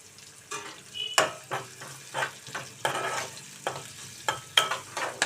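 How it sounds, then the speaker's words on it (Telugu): Curry leaves hit hot oil for a potato and tomato curry, producing a close, crackling sizzle broken into repeated bursts as a spoon stirs and scrapes the pan, with no talking. "కొంచెం కరివేపాకు కూడా వేసుకుందామండి,"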